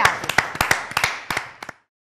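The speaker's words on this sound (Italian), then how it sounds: "Grazie, bel applauso." A small audience at an Italian television show gives a short burst of clapping, a dozen or so distinct, close hand claps in a quick uneven rhythm that stops abruptly after under two seconds.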